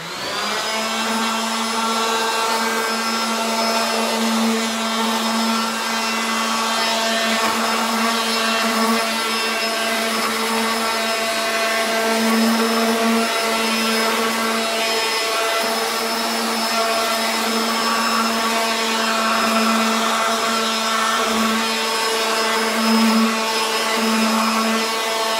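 Electric sander working over a painted wooden armoire, a steady loud whine with a constant tone, running without a break throughout, no talk.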